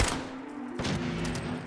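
Gunfire in the video game Fallout 4 comes as a dense, crackling burst of shots, with a sharper blast partway through, loud and continuous.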